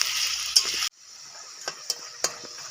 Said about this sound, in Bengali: আলুটাকে আমি লাল লাল করে ভেজে নিব।